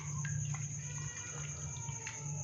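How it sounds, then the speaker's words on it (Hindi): Cut potatoes being swished and washed by hand in a bowl of water for egg French fries, a steady close sloshing and splashing with small drips and clicks throughout. "तो आलूओं को हमने पानी के अंदर अच्छे से वॉश कर लिया है।"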